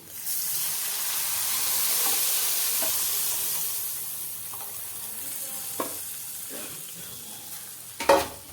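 Tamarind extract, about 150 grams soaked and dissolved, poured into a hot pan for tamarind rice paste, sizzling loudly and steadily with a hiss that slowly fades, broken by a few clinks of stirring near the end.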